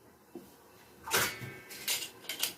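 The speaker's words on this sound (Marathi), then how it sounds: "आता हे आपण कुकर गॅसवर चढवूया" A pressure cooker is set onto a gas stove in a home kitchen, giving a few faint metallic clinks and clatters of pot against grate in a quiet room.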